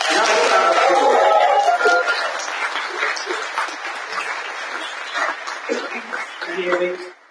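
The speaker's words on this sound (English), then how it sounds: "And if you could give another round of applause." An after-dinner audience gives a warm round of applause, dense clapping at first that gradually thins, with scattered chuckles and a voice toward the end.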